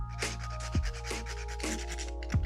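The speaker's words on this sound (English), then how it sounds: "just give it a little grating of cinnamon on top" Cinnamon grated over an absinthe cocktail topped with pebble ice, a soft rasping rub repeated in short strokes, close and fairly quiet, with faint clinks between strokes.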